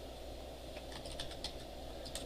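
Quiet keyboard typing during a web database lecture, with a short run of soft, uneven key taps heard faintly over a steady room hum.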